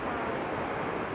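Water crashing down at Kapildhara waterfall pours as a dense, steady roar of broadband rush, close and continuous with no break.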